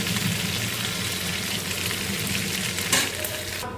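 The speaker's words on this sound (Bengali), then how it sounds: "চিংড়ি মাছগুলো সুন্দর করে ভাজা হয়ে গেছে" Prawns fry in mustard oil with a dense, steady sizzle and crackle, close and loud, followed by a brief scrape of stirring near the end and no voices.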